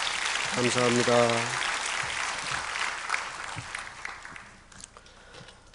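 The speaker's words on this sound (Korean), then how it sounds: "우리 다시 한번 따뜻한 박수로 격려하십시다" A church congregation applauds warmly in a broad, steady wash of clapping that slowly thins out. A voice speaks briefly near the start.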